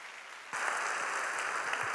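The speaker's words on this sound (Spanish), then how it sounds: "Dale un aplauso al Señor." A church congregation breaks into applause at a Spanish-language service, a sudden steady wash of clapping starting after a brief quiet moment and continuing evenly, moderately distant, with no talk over it.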